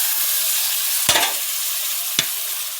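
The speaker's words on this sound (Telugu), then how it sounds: "ఫ్రై అయిన తర్వాత ఆనియన్స్ వెజిటేబుల్స్ అన్నీ వేసుకొని" Onions and vegetables for veg biryani frying in a pan, a loud continuous hiss with two sharp stirring scrapes about a second apart.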